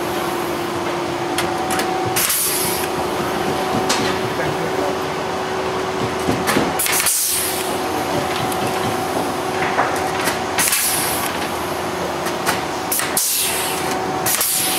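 Aluminium wing sections of a Zenith CH 750 Cruzer kit airplane being riveted between clecos in a workshop, with a constant airy hiss broken by sharp, irregular pops and clanks from more than one riveter.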